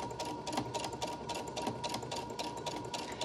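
A sewing machine runs in a fast, steady, rapid-fire rhythm while back stitching fabric for a DIY face mask, close and continuous with no talk.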